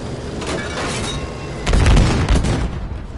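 Gunfire and booming explosions in a Battlefield V conquest match, a continuous loud barrage with a heavier burst of blasts midway, no voices over it.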